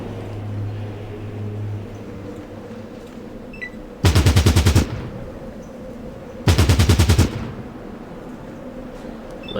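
Two loud bursts of rapid automatic gunfire in the Fallout Tactics video game, each lasting under a second and separated by a short pause, over a low steady ambient rumble.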